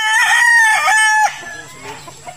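Chickens, hens and a rooster kept by a Filipino gamefowl breeder, with a loud, close rooster crow in the first half followed by softer scattered clucking.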